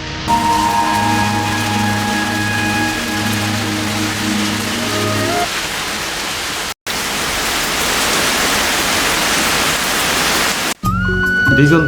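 Heavy, steady rain falls over open village fields, a dense hiss that continues throughout. Sustained musical tones sit over the rain in the first half, and the sound is interrupted by two brief cuts.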